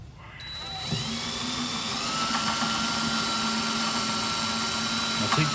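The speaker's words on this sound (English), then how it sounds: "So keep adding lube, keep drilling" A cordless drill whines steadily as it bores into lubricated steel, a continuous high-pitched grinding that starts up and holds at full speed.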